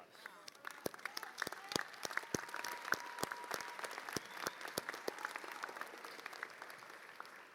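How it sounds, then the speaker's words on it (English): A commencement audience at a community college breaks into applause, dense crackling clapping with sharp nearby claps standing out, sustained across the whole stretch with faint voices and cheers underneath. "I think one more round of applause"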